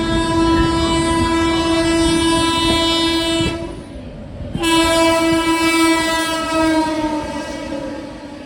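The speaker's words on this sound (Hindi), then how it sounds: "ये थी Mumbai LTT Guwahati weekly superfast express. क्या ज़बरदस्त ओवरटेक करके निकली है।" Mumbai LTT–Guwahati Weekly Superfast Express train overtaking on an adjacent line, heard up close and loud from aboard another train: a steady strong horn-like tonal drone and rumbling wheels, with a brief dip midway, and no talk.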